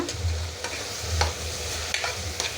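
Vegetables with salt being sautéed and stirred in a pan at home, with a steady close sizzle and several sharp scraping strokes of the spoon against the pan.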